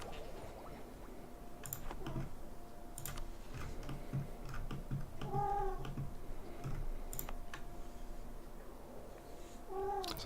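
An unhappy house cat that has been disturbed from its sleeping spot gives a couple of faint, close meows and grumbles over soft ticking and clicking in a quiet room.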